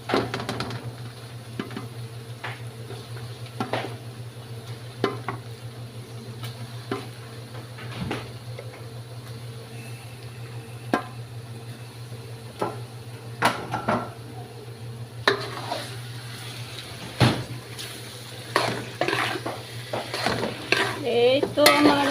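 Chicken pieces sizzle and fry in a pan while being stirred, with steady crackling frying noise and repeated scraping and clinking of a utensil against the pan, growing busier toward the end.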